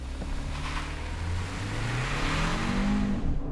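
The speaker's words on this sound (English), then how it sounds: "No launch control, but we're just gonna brake boost it, see what happens." 2025 Kia K4 GT-Line Turbo brake-boosting and launching, its engine note rising from a low drone into a climbing, steady pull, heard close with road and wind noise underneath and no talk.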